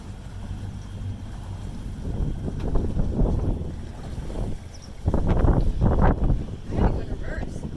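A boat motors at full throttle through the Lefkas Canal in Greece, a steady engine and water rumble with wind buffeting the microphone, growing louder in bursts toward the end, while people talk over it.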